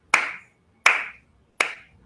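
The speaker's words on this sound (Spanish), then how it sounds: "Sonaba, pues voy a hacer un aplauso. Disculpen si suena fuerte." Three sharp, loud hand claps ring out one by one in a quiet room, evenly spaced about three quarters of a second apart, each with a short reverberant tail.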